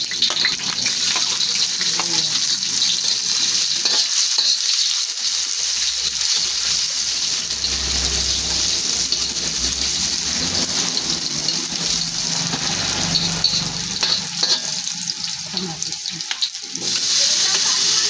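Bitter gourd being sautéed in a pan gives a loud, steady hiss and sizzle throughout, with faint stirring and a low background rumble.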